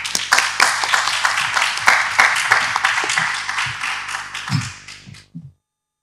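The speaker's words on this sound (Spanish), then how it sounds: "aplauso a Empar Casaña por su colaboración" Applause for Empar Casaña at an occupational therapy internationalization conference at UMH: a room of people clapping steadily for about five seconds and then fading out, with a few voices underneath.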